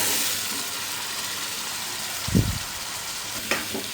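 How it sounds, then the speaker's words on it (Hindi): Around a kilogram of chicken fries over high flame in a pan for Karachi-style biryani, giving a steady close sizzling hiss, with a couple of brief stirring scrapes and knocks. "हाई फ्लेम पर चिकन को इतना फ्राई कर लेंगे कि इसका कलर चेंज हो जाए"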